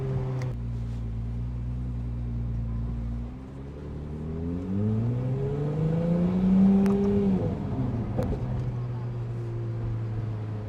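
Ferrari convertible engine running close up, a steady low drone that climbs in a rising rev around the middle before settling back, with brief faint voices in the background.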